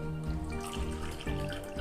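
Water pours and splashes into a bowl of rice flour close by, a short steady trickle with no voices.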